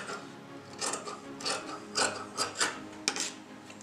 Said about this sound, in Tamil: இப்போ அதை நம்ம கட் பண்ணி எடுத்துடலாம்.